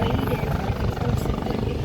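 A US Coast Guard HH-65 Dauphin helicopter hovers at a beach airshow, its steady rotor thump and turbine roar constant and close throughout.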